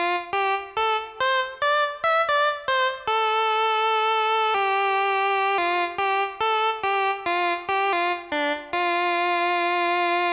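A synthesizer patch with a triangle LFO and germanium distortion plays a bright, buzzy melodic line, first as rapid staccato notes, then as sustained tones, then as staccato notes again.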